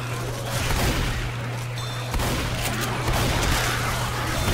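Sustained gunfire in the Left 4 Dead 2 zombie shooter on a haunted forest custom map, dense overlapping shots rolling on steadily for several seconds with a low game hum underneath.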